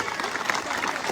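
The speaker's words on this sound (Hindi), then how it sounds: "तो एक बार जोरदार ताली बजाकर सबका स्वागत करिए" A crowd at a BJP political rally applauds steadily to welcome guests, a dense, even wash of clapping that stays at the same level throughout.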